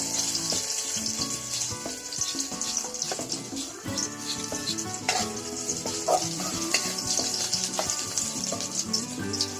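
Garlic fries in hot mustard oil for a taro curry, giving a steady, close sizzle with occasional stirring scrapes and no talk.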